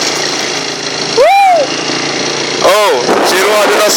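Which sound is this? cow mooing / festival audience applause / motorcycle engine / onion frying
motorcycle engine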